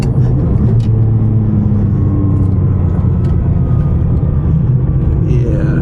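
A Ferrari 550 Maranello cruising on the road in tall gearing, a steady low engine drone and tire roar heard from inside the cabin, continuous and fairly loud throughout.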